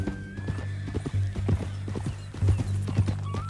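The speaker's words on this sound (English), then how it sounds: "That a new horse?" A horse in the video game Red Dead Redemption 2 clip-clops along with quick, close hoofbeats, then lets out a neigh, loud and clear over a low background.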